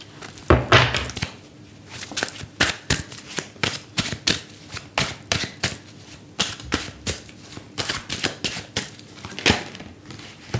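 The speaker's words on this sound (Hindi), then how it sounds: "कार्ड यहाँ पे आ गया है, ले लेती हूँ" Tarot cards being shuffled, drawn and handled, a steady run of close, crisp card taps and flicks, with no talking.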